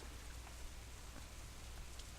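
Rain in the visual novel Katawa Shoujo, a steady soft wash of falling drops with occasional faint patters, heard alone with no talking.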